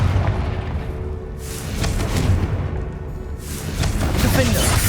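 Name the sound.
Confringo blasting spell explosion from Hogwarts Legacy video game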